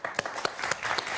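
Studio audience applause on the French quiz show Questions pour un champion: a short burst of brisk clapping from a crowd, with a few sharper individual claps standing out.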